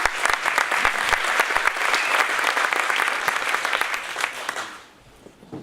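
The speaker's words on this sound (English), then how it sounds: "So please give your Executive Committee a round of applause." A gala audience at a chamber of commerce awards presentation applauds their Executive Committee, a dense, steady roar of many hands clapping that fades out near the end.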